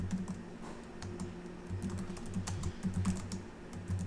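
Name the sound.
typing notes on a computer keyboard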